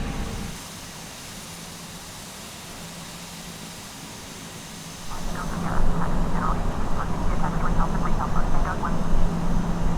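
Airbus A320 jet engines taxiing in Microsoft Flight Simulator X: a steady low engine rumble and hiss that swells louder about halfway through, then carries a rapid, fluttering pulsing texture to the end.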